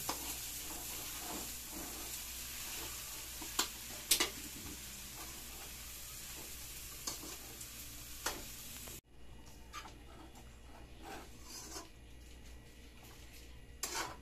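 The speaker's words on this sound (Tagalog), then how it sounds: "Tapos po ay haluin po ulit natin." Pancit canton guisado noodles with cabbage stir-fried in a pan, a steady sizzle under repeated scraping and tossing strokes, with a sharp drop in level partway through as the frying continues more quietly.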